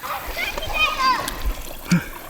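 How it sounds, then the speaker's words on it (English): Children play in the water at Ocean Pond beach, their high voices chattering close by, with a short splash near the end over a light outdoor background. "watching the kids play at the beach"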